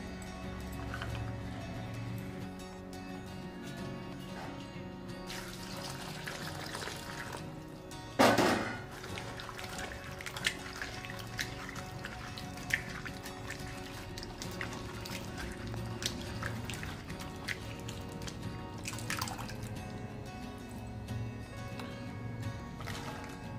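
Broad beans being washed in water in a home kitchen: faint sloshing and handling of the beans, with one louder splash and pour about a third of the way in, then quieter rinsing.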